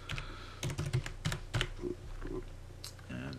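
A password being typed on a computer keyboard, a short run of soft, close, irregular key clicks in quick succession, fairly quiet and with no talking.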